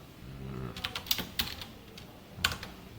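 A computer keyboard is typed on while entering a formula in a Java programming lesson. About half a dozen crisp, irregular keystrokes sound close and clear over a faint low hum.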